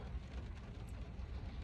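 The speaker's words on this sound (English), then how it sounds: "It's getting colder. It's raining." Cold freezing rain falling steadily outdoors, a faint, even hiss with a low rumbling undertone and no distinct drops or breaks.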